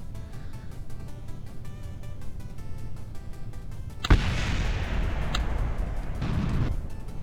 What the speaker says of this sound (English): that would be some rocket debris exploding